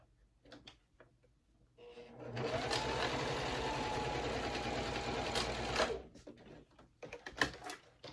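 Domestic sewing machine running a continuous top-stitching pass on a fabric wallet, a fast even mechanical whir lasting several seconds, framed by quieter handling clicks and rustles before and after.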